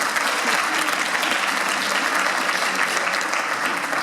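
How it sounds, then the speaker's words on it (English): An audience at a school winter concert applauds, a dense, continuous clapping that stays strong for the whole stretch, with a little crowd murmur mixed in. "Give them all a round of applause"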